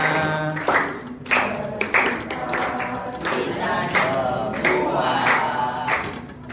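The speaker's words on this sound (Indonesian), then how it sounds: "Tepuk tangan." A crowd claps in steady rhythm along with loud music and singing, the claps blending into the full mix.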